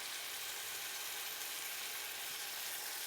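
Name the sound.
garlic and turmeric sautéing in oil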